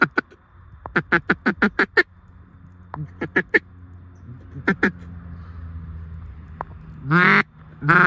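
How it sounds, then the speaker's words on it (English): Mallard ducks quack on the Ohio River, sharp repeated bursts in quick runs, then scattered single calls and a final honking flurry, fairly close and loud over a quiet background. "mallards are over here."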